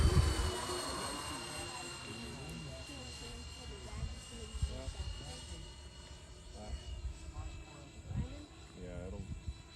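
A Freewing F-14 Tomcat EDF model jet flies overhead on its maiden flight, a faint, steady ducted-fan whine sweeping past while people talk close by.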